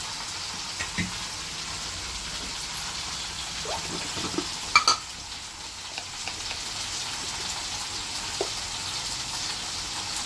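Brinjal pieces fry in a pan with a steady, moderate sizzle and hiss, broken by a few faint clinks and bubbling pops.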